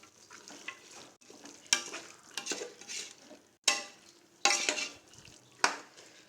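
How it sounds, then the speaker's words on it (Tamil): Vegetables sizzle gently in masala in a pan for veg biryani while a spoon stirs and scrapes in repeated strokes, each scrape sharp against the quiet frying hiss. "காயெல்லாம் இந்த மசால் பிடிக்கிற அளவுக்கு கொஞ்சம் அப்படியே வதங்கிக்கிட்டே இருக்கட்டும்."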